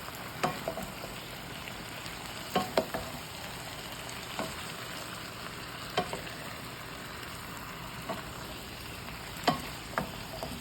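Beef, green peppers and onion stir-frying in oyster sauce, a soft, steady sizzle with a spatula scraping and tapping the pan now and then, close and quiet with no talk.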